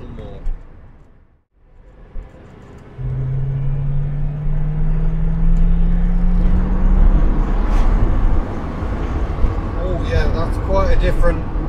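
A Citroen DS car drives along a road, its steady engine rumble rising as it picks up speed with a gradually climbing tone, and voices are heard over the noise inside the cabin.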